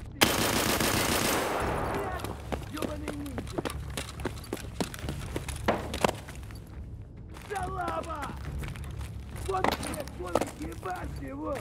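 Gunfire in Escape from Tarkov: a sustained automatic burst at the start, then scattered sharp shots and rapid footsteps through the middle and end, with someone talking over parts of it.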